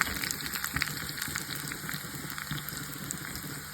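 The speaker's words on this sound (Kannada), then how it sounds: "ಎಣ್ಣೆ ಬಿಸಿ ಆದಮೇಲೆ ಸಾಸಿವೆ ಹಾಕಬೇಕು" Mustard seeds, garlic and dried chili frying in hot oil for a tempering, a close bright crackling sizzle with tiny pops, steady and continuous, no voices.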